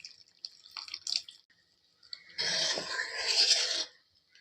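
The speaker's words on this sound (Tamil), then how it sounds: "இப்போ நீங்கள் வந்து இதில் தேவையான அளவு கொஞ்சம் புளித்தண்ணி சேர்த்துக்குங்க" Tamarind water is poured into boiling shallot sambar in a close, splashy pour lasting about a second and a half. A few faint drips and clinks come before it.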